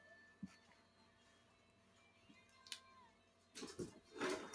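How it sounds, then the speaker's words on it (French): A house cat makes faint noises in the background of a quiet room, with a few soft meow-like calls and some rustling. The sounds grow somewhat busier toward the end. "Il y a mon chat qui est en train de faire des bêtises dans le fond, je l'entends."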